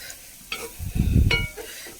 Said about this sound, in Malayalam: മുളകും നാളികേരമൊക്കെ എല്ലാ ഭാഗത്തേക്കും എത്താൻ വേണ്ടിയിട്ട് നമുക്ക് നന്നായിട്ടൊന്ന് ഇളക്കി എടുക്കാം.